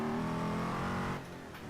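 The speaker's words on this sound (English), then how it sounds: "Look at me, first gear, flooring it." In Assetto Corsa, a Hennessey Venom GT engine roars loud and close at full throttle in first gear, then the sound drops abruptly as the revs fall away.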